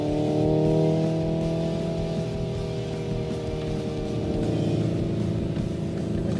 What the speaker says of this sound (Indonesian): kalau kita buka gasnya ada suara kayak pop and bangs, nambah sensasi seru nyetir mobil ini, padahal mobil ini full elektrik